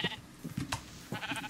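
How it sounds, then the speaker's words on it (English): Sheep in the video game Minecraft bleat in short nasal bursts, several calls spaced across the moment, close and clear with no speech over them. "there's some more sheep"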